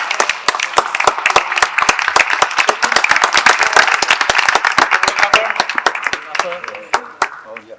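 An audience at a children's movement-skills talk claps steadily and loudly for several seconds, with dense close handclaps that thin out and fade near the end, with faint voices under it.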